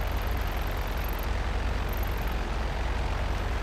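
Airplane engine in the game GTA Online, a loud continuous drone with a steady low rumble and broad roar that stays even throughout, close up with no talk.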